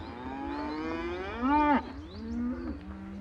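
A herd of cattle from a Queensland property low and moo, with one loud drawn-out call rising and falling near the middle and a shorter moo after it, fairly close over a quiet outdoor background.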